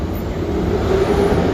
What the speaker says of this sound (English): you can hear all that traffic behind me